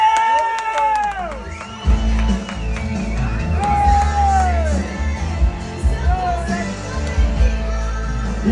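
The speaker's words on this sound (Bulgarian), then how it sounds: "Аплодисменти, по-силно" A crowd at a live prize-draw event cheers and whoops loudly, with mixed shouts and voices forming a continuous excited din that rises in several bursts.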